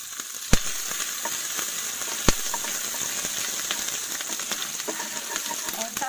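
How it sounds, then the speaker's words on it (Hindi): Grated ginger fries in a tablespoon of hot refined oil for bread samosa filling, giving a steady, close crackling sizzle with scattered pops and two sharper spatters. "यहाँ पर मैंने 1 टेबलस्पून रिफाइंड ऑयल गर्म होने के लिए रख दिया है, और अब इसमें हम डालेंगे ये ग्रेट किया हुआ जिंजर"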